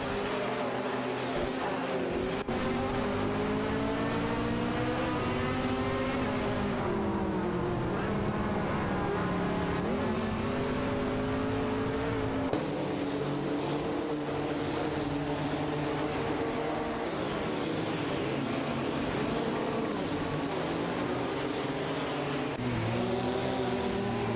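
Several race cars in an AI racing game run tightly bunched, their engines forming a continuous, layered whine that rises and falls as they accelerate and lift, with no gaps across the whole stretch.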